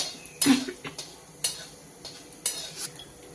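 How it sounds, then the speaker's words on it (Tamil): Mustard seeds spluttering in a little hot oil in a cooking pan give a few sharp, separate crackling pops spaced about a second apart, close and fairly quiet, with no talk. "கடுகு பொரியட்டும்."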